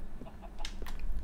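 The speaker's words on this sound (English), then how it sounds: "I'll just go around by the hens, pick up the eggs and the feathers." Hens cluck in a video game as a player passes by to collect eggs and feathers, giving a few short clucks close by over a low background hum.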